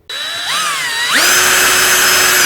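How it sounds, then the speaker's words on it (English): A power drill spins up loudly and bites into the end cap of a 1953 Kriesler radiogram model 11-30, a close whining tone that climbs in pitch and then holds steady. "I'm just going to try drilling it,"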